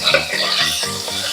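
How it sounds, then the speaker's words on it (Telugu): Silver fish and fish roe fry loudly in hot oil, making a dense, close sizzle with crackling spatters and a few rhythmic stirring strokes across the short stretch. "ఇవి కొంచెం ఫ్రై చేసుకున్నప్పుడు మనం జాగ్రత్తగా ఉండాలండి, పేలుతూ ఉంటాయి."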